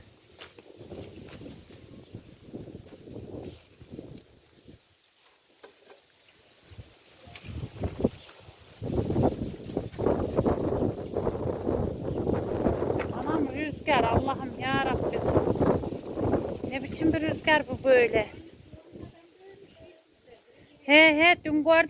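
Strong wind buffets the microphone outdoors by a garden in Niğde, a sustained roaring rumble that swells and gusts through most of the stretch, with a voice speaking at times.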